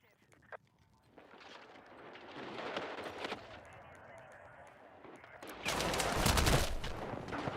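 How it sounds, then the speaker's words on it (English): Gunfire in Battlefield 6, rapid automatic bursts building from scattered shots into heavy, loud sustained fire with booming impacts near the end. "Damn, I just spawned into literal gunfire."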